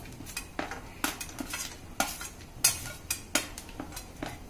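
Cashews and almonds stirred in a pan for zarda sweet rice, a spoon clattering against the metal in repeated sharp scrapes and clinks at an uneven rhythm, close and fairly loud, with no talking.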